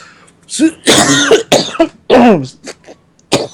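A few harsh coughs and throat-clearing bursts from a lingering cough, close and loud, spaced irregularly with short pauses between them.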